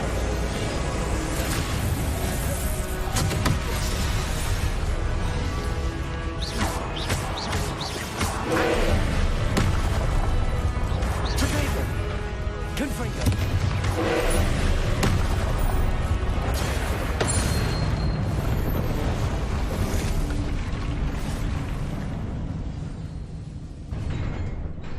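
Incendio and Confringo fire spells cast in the Hogwarts Legacy video game make a dense, continuous wash of fiery blasts, whooshes and booms, loud and steady throughout with the game's score running underneath.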